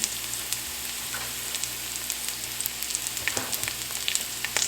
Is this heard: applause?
no